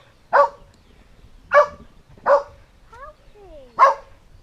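A dog barks four times, each bark sharp and loud at close range with pauses of about a second between them, on a walk beside a field of poppies, with a brief whistled or whining tone between the last barks.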